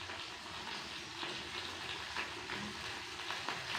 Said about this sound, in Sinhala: තෙල් එක රත් වෙනකොට අපි මේ ලීස් ටික දාමු